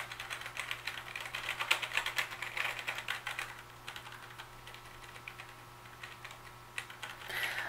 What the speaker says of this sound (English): I would say it's a little more noisy than a regular membrane keyboard